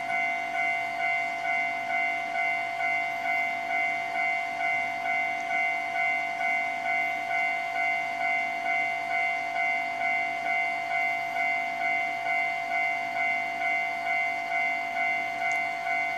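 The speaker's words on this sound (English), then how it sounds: "Looks like a freight train's coming." A freight train in the video game Trainz 12 gives a long, steady rumble with a sustained tonal whistle-like drone and a faint rhythmic clatter, continuous and fairly loud throughout.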